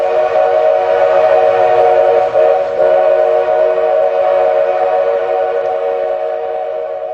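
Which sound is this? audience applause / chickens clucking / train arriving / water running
train arriving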